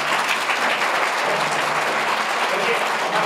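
Schoolchildren in a school hall in Hanumangarh clap together in loud, dense, continuous applause that holds steady from start to finish.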